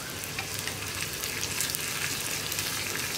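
Sliced onion and two rounds of green chilli fry in a pan for a Kerala paal kappa dish, giving a steady close sizzle broken by soft stirring scrapes and no talk.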